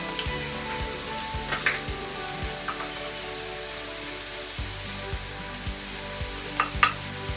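Chili powder frying in oil in a pan for a Kerala-style fish curry, with a steady close hiss and crackle, faint spatters, and occasional soft clicks throughout.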